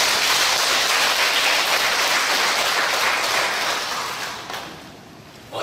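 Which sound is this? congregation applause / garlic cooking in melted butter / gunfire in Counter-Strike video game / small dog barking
congregation applause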